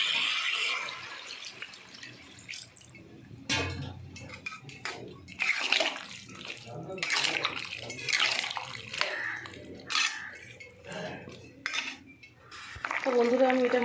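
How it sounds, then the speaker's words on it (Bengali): Water splashes into a pan of spiced crab curry with masala and chilli powder, amid close clattering of a metal pan and utensils, with no talk. "বন্ধুরা আমি একটু জল দিয়ে দেবো।"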